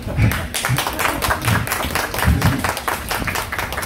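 A crowd claps in a steady rhythmic patter at an outdoor folk performance by the Seomjin River in Gurye, many hands beating together at a fairly even pace, close and lively.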